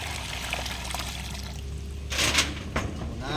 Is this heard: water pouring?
yes